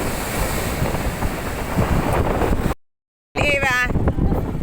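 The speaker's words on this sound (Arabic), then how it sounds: "بصوا الموجه جايه من هناك، بصوا علوها قد ايه" Big sea waves crash and roar on a beach, a dense, loud, continuous surf rumble buffeted by wind on the microphone, cut by a brief drop to silence, then resuming with a voice speaking over it.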